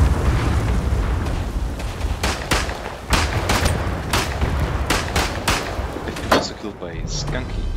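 Grenade explosion in the World War I shooter Verdun, set amid dense battlefield noise of repeated sharp gunshots and booms, with a voice talking over the fighting.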